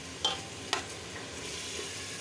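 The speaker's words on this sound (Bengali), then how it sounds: "মাছটা দিয়ে দিব, এখন কষাবো" Fish being sautéed in a pan, a steady low sizzle with two sharp utensil clinks near the start, close and fairly quiet with no voices.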